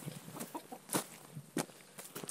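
Farmyard chickens cluck in short, irregular bursts close by, several quick clucks and squawks overlapping against a quiet background.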